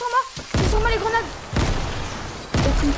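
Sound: grenades exploding in a video game

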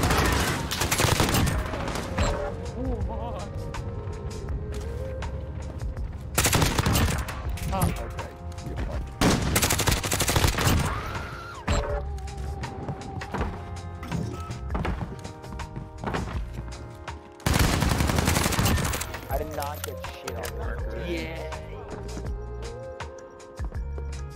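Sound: P90 gunfire in a video game

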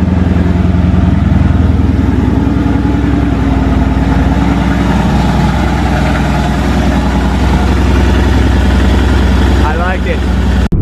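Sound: motorcycle engine idling

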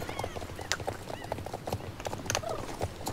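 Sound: horse hooves in the video game Star Stable Online

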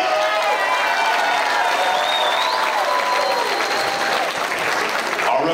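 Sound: applause

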